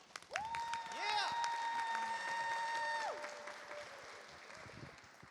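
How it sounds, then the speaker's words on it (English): An audience claps steadily for a few seconds at a student panel event, with a bright whistle ringing out over the applause before it fades. "one last big round of applause for our courageous student panel"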